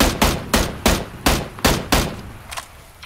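Gunfire in a video game: a rapid series of about nine sharp, evenly spaced shots, loud and close, with fainter shots trailing off at the end.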